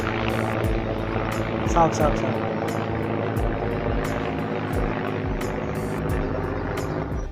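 Over Barpeta, Assam, a helicopter passes overhead with a rhythmic rotor chop and a constant engine drone, while a person speaks briefly over the noise.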